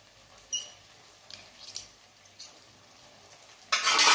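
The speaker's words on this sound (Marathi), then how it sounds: "असं हलवत राहायचं, शिजताना हलवत राहायचं" Wood apple pulp with a little salt is stirred in a pan as it cooks, sparse quiet scrapes and taps at irregular intervals, ending in a louder burst of rough, sizzling noise.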